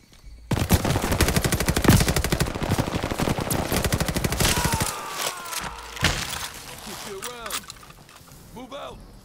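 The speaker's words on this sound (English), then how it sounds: "Open fire on that tree." In The Great Pacific War, a World War II jungle shooter, a long burst of rapid automatic gunfire rakes a tree, loud and close. Scattered shots and clatter follow, and voices speak over the firing.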